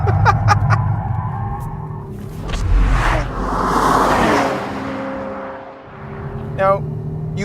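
A 2014 Porsche Panamera 4S with a twin-turbo V6 accelerates hard, its engine note climbing into a broad, rushing roar that swells and then fades, followed by a brief second rise near the end.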